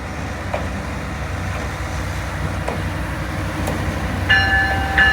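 A train with three locomotives rumbles past at a steady roar, with faint metallic clanks and a brief high squeal near the end.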